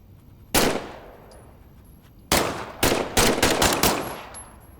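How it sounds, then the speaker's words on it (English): Weapon test-fire in Medal of Honor Above and Beyond, a VR war game: one loud gunshot with a long decaying tail, a pause, then a rapid burst of five or six more close, sharp shots. "why don't you test fire your weapon?"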